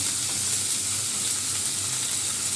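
Cauliflower and frozen peas frying in a wok (kadai) with green chilli and whole spices, a loud, steady hiss of sizzling oil with no pauses and no voices.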